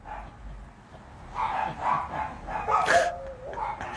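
Two dogs bark next door, a series of muffled, somewhat distant barks and yips rising and falling over a few seconds, with a brief whine among them.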